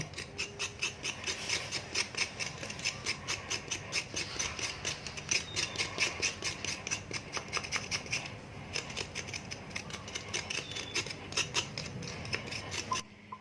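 Ginger being peeled by scraping with a knife or short spoon, rapid rhythmic rasping strokes repeating steadily up close for the whole stretch.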